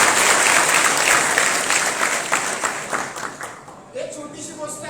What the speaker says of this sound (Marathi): तर जोरदार टाळ्या सगळ्या